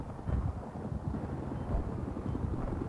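Helicopter rotor and engine drone in the video game Battlefield 3, a faint, steady low rumble with wind-like noise, continuous across the short stretch with no talk over it.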